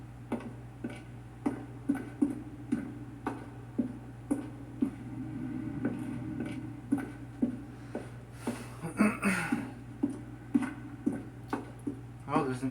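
Steady ticking of an apartment timer in The Stanley Parable Ultra Deluxe, sharp regular clicks about once per second running throughout over a low game hum, with a brief burst of louder noise midway.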